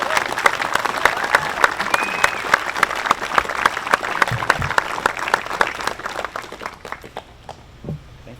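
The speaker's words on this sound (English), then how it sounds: "give her a round of applause" A room full of people at a commencement ceremony claps loudly and steadily for several seconds, then the applause thins out and fades away.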